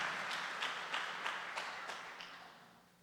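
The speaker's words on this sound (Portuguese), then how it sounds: "Vamos aplaudir a glória do Senhor pela vida desse homem aqui." A church congregation claps for a man during a Wednesday service, with evenly spaced, rhythmic claps at a moderate distance that slowly fade and grow quieter toward the end.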